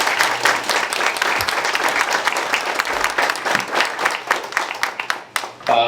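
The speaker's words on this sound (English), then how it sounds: "Let's give our seniors a round of applause." Applause from an audience honoring seniors at a scholarship reception, a dense steady clapping that stays loud for about five seconds and then thins out near the end.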